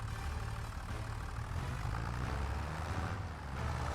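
A tractor engine running in a farming video game, a steady low rumbling drone that holds evenly throughout with no pauses.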